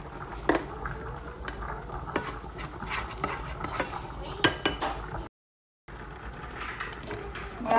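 Chopped garlic stirred in a sizzling pan while spaghetti is being made, with busy utensil scrapes and clatters over the frying hiss and a brief silent gap partway through.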